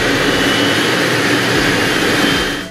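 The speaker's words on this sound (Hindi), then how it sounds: "अब जब टेक ऑफ के लिए पायलट इंजन की स्पीड बढ़ा देगा" An airliner's jet engines spool up for takeoff, a loud, steady, close roar with a rising whine that carries on without pause.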